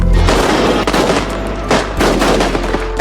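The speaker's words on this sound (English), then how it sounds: "And they fired the first shot soon after." Soldiers fire weapons in a staged World War II shootout, a loud, dense burst of gunfire with sharp cracks and a rolling, echoing tail, no voices.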